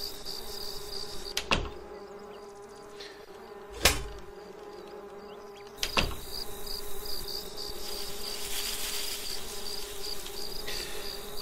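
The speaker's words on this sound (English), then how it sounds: "Go away, bees." Bees in the horror video game Lakeview Cabin keep up a constant high-pitched buzzing drone, broken by three sharp thuds spaced a couple of seconds apart, with no talking.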